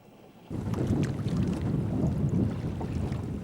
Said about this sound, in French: Donaes, maintenant sous voile, rentre dans un petit channel de Vancouver Island